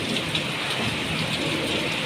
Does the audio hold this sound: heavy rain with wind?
yes